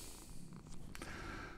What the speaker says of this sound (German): Vielleicht hört er auch, dass er schnurrt.